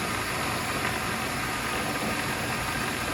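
Pelton turbine spinning under a water flow in a lab test rig, a steady, dense rushing hiss with a low mechanical hum, loud and unchanging throughout, with no voices.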